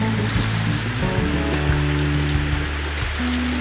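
A waterfall at Inversnaid on Loch Lomond rushes with a constant loud roar of churning water, steady and close, with a low droning tone underneath and no talk.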